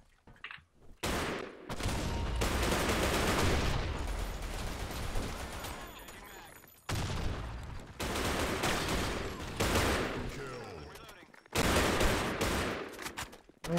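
Bursts of rapid gunfire from the online shooter BlackShot on the Desert Mountain map come in several long, loud volleys separated by short silent gaps.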